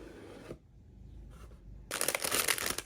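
Cardboard and plastic packaging of an HG Legend Gundam model kit box being opened, with a brief rustle, a quiet pause, then loud sustained crinkling and crushing close up.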